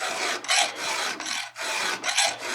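Hand file rasping across the cutters of a Stihl 034 AV chainsaw chain, close and steady: four long strokes, each a bright scraping rush, with short pauses between and no talk.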